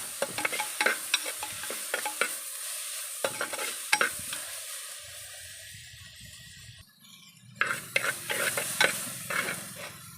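Onion and tomato sautéing in a clay pot, with repeated scraping stirs and a steady sizzle, a quieter low bubbling stretch in the middle, then brisk stirring again, close and fairly loud.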